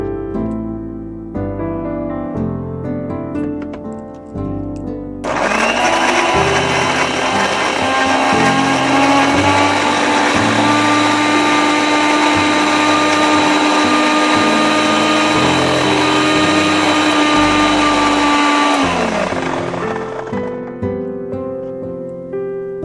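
A kitchen blender grinds green masala into a smooth puree, a steady loud whir running for about fifteen seconds before cutting off, with quieter kitchen sounds before and after.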